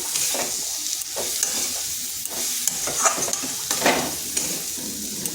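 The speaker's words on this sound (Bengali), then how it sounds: "এটাকে বেশ কিছুক্ষণ এইভাবে কষে নিলাম।" Yardlong beans with chilli powder are sautéed in a pan, a loud continuous sizzle broken by repeated scraping and clacking strokes of a spatula at an uneven rhythm, with no voices.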